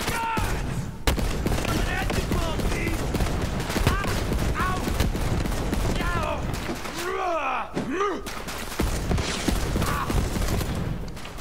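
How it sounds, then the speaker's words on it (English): Heavy shotgun fire in the Borderlands 3 video game, with repeated loud blasts blending into a dense, continuous din of combat effects and character voices. "With a shotgun."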